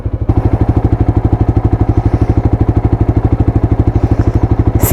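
A Royal Enfield motorcycle engine thumps along a coastal ridge road, a loud, close, rhythmic single-cylinder beat with evenly spaced low pulses that stays steady throughout.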